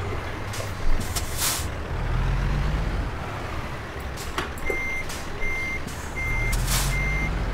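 A semi truck reverses a trailer in American Truck Simulator, its backup alarm beeping in a regular series over a low engine rumble, with sharp hisses of air brakes releasing near the start and middle.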